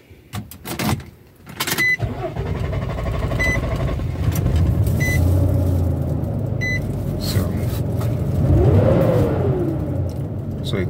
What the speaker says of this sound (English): So, and you can equally start the car.